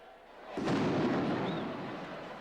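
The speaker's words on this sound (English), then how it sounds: "The moteretto, or cannon, has been sounded" Cannon fired to start the Palio horse race in Siena, in an open town square: a single deep, booming blast that hits suddenly and rolls on with a long echoing rumble over crowd murmur.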